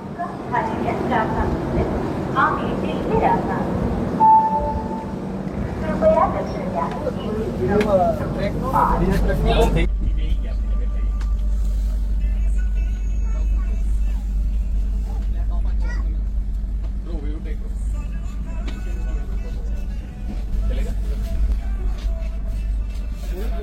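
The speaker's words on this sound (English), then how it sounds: "So the train is like right on time and it has departed now" A moving train pulling out of Goa, starting as a busy jumble of voices and station noise before giving way to a steady low rumble of the running carriages, with faint talk continuing underneath.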